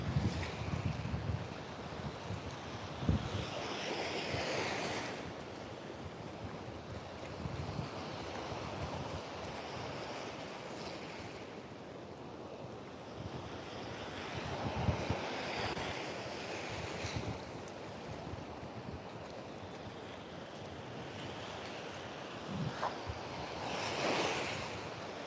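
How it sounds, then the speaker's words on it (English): Ocean waves break and surge repeatedly, each crash swelling and fading, with wind buffeting the microphone throughout and no voices. "Can you guys hear the waves breaking?"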